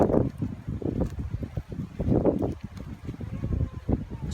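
Gusty wind buffets the microphone in uneven rumbling bursts during heavy rain, rising and falling throughout with no voices.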